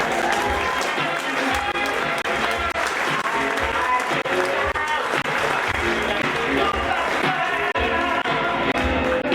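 A comedy club audience gives sustained applause and cheering to stand-up comedian Austin Rausch as he takes the stage at Comedy Union, a dense, steady wash of clapping that holds at full loudness throughout.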